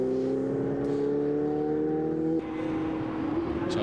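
A Ferrari Challenge race car crossing the finish line at Budapest in the 2017 Coppa Shell race, its engine a loud steady high whine that shifts down partway through.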